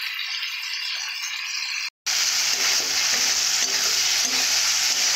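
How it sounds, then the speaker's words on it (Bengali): Chopped tomatoes being stir-fried in a pan for a leafy greens dish, a steady loud sizzle with spatula scraping and rattling, cut by a brief silent gap before the frying noise resumes. "এরপর টমেটো দেবো কাটা। এইভাবে কিছুক্ষণের জন্য কষে নেব।"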